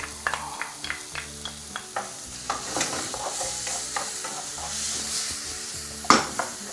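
Cuttlefish stir-fries in a pan with curry, soy and oyster sauce, a steady sizzle with repeated scraping and clinks of a utensil against the metal, ending in one louder clank; no voices.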